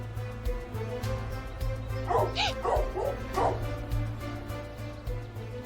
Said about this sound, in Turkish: Yoksa bunlar o köpekler mi?